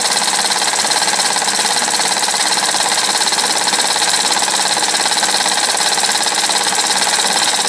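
A small home-built horizontal steam engine runs steadily, giving a loud, continuous mechanical clatter and hiss with a fast, even rhythm from start to finish and no talking.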